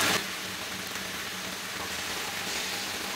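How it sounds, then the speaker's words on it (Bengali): Chicken kebab pieces fry in a pan over high heat, a loud, even, close sizzle that continues steadily with no voices. "হাই হিটে এইগুলাকেও মিনিট 2 ভেজে একটু উল্টায় দেই"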